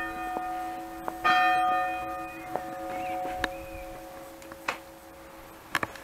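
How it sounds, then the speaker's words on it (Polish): Church bells ringing in the open air along a cycling route near Bronów, with irregular clanging strikes that resonate and decay, one loud burst early on and fainter distant peals following. "Jak ci stało na kościół, dzwony się odezwały."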